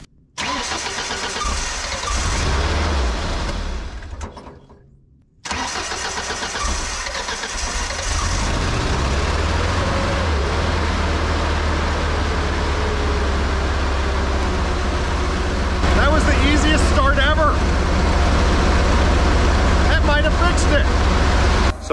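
A broken boom lift's engine cranks, dies into a brief gap, then fires up and runs steadily as a loud, close mid-pitched idle with a few clanks and voices over it.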